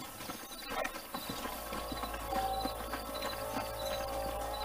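Horse hooves clip-clop steadily at a walking pace in the Red Dead Redemption game, set against a dense bed of ambient game sound, with faint neighing in places and no talking over it.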